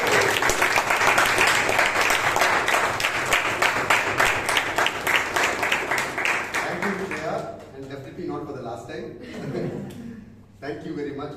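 Applause at a Toastmasters club meeting in Bangalore as the club president is introduced: rhythmic group clapping that fills the room for about seven seconds, then gives way to chuckling and murmured voices.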